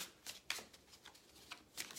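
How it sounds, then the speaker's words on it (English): A deck of tarot cards is shuffled close by, with rapid papery riffles and soft slaps repeating in quick bursts, heard alone without voices. "A little more shuffle, guys."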